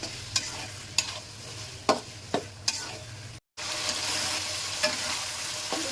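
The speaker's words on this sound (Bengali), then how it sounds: "টমেটো কষানো হয়ে গেছে" Three raw tomatoes with vegetables frying in oil left from cooking fish, a soft continuous sizzle punctuated by sharp spoon scrapes against the pan, close by, with one brief cut.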